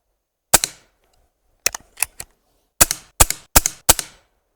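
Hatsan/Optima mod 25 SuperCharger air pistol shots fired close up: a single pop, a short pause, then a quick cluster of three and four more sharp cracks in steady succession.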